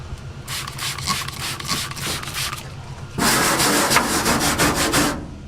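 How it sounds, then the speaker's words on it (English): A really stiff bristle brush, not a wire brush, scrubs parts of a 1964 Ford F250 dump truck with degreaser in steady rhythmic back-and-forth strokes, close and fairly loud, growing harsher and louder in the second half. "bristle brush."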